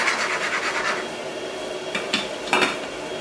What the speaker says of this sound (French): On va remuer ça délicatement.